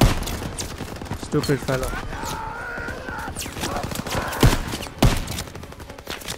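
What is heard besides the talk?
machine gun fire in Call of Duty: WWII video game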